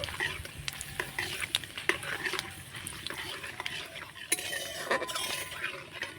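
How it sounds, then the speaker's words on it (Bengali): Panch phoron, dry red chili and bay leaf tempering frying in hot oil for pickle, stirred with a spoon: steady close sizzling with frequent metallic scrapes and clinks against the pan, no talking. "ফোড়নটা একটুখানি নাড়াচাড়া করে ভেজে নেব"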